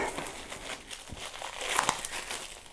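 Plastic shrink wrap crinkles and tears as it is pulled off a collector's edition Lumineth Realm-Lords battletome, giving short, close, uneven crackling bursts over a few seconds.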